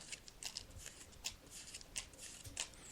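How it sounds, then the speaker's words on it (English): Tarot cards being shuffled by hand at close range, a series of quiet rapid riffling and flicking bursts with no talking. "as you can hear, I'm just shuffling them now"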